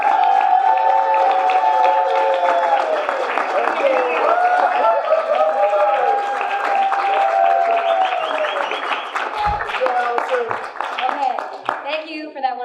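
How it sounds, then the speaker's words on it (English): A presentation crowd greets speaker Allison with sustained applause and whoops, many hands clapping close and loud while sharp cheers and shouts ride over the top, thinning toward the end. "give a round of applause for Allison"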